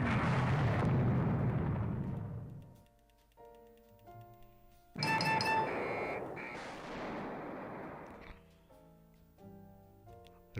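Naval missile and gun fire in a warship strategy game: two heavy booming blasts with long rumbling decays, separated by quieter tonal ticking and interface beeps.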